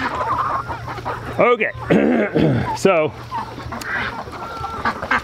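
Hungry farm birds cluck and squawk close by on a rainy day, with a few sharp calls over a steady background and a person speaking briefly.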